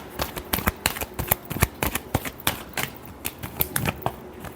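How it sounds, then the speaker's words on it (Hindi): Tarot cards being shuffled by hand, a rapid run of crisp riffling flicks and soft slaps in an irregular rhythm, close and clear with no talking. "Last shuffle."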